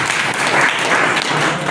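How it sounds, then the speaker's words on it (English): A university crowd claps at a vice chancellor's address, producing a loud, dense burst of many hands applauding together, sustained evenly across the short stretch. "Make a bigger clap"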